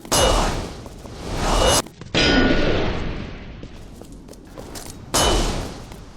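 A flashbang thrown in Resident Evil Re:Verse gives sharp metallic clangs followed by loud, ringing bursts of noise that cut off abruptly. One burst rises again near the end, with no voices.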